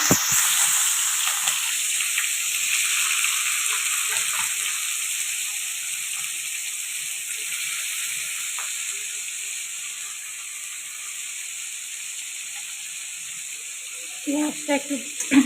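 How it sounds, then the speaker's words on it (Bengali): Loud, steady hiss of chopped onions frying in hot oil for ghugni, crackling continuously, with a few clinks near the end. "পেঁয়াজটা লাল লাল করে একটু ভাজা ভাজা করে নেব।"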